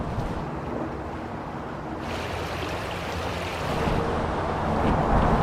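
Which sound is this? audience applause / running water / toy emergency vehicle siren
running water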